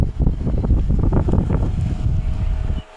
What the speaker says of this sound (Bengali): রোদি থাকার কারণে আমরা এ দেখেন ফ্যান দিয়ে তাকে বাতাস দিচ্ছি আর কি।